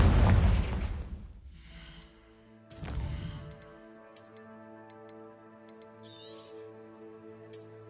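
Confringo explosive spell blasts in Hogwarts Legacy, a loud burst at the start that rumbles and fades, then a second blast, followed by sharp sparkling hits and a lingering tonal hum from the game.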